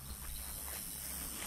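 Steady, high-pitched insect chirring continues without a break over a low background hum, fairly faint and distant.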